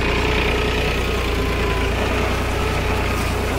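Mahindra OJA 2130 tractor engine running steadily with the PTO engaged and no load, a loud, even low diesel drone with a fine rhythmic throb, unchanging throughout.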